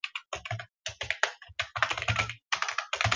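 Code is being typed on a computer keyboard as quick bursts of crisp, close key clicks with brief pauses between words. There is no talking.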